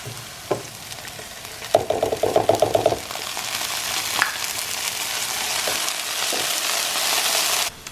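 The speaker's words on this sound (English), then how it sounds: "we're going to saute the onions first, and then we're going to add the garlic" Onions sauté in vegetable oil with a steady, soft sizzle, broken by a burst of rapid utensil clatter against the pan early on and a few isolated knocks later; no voices.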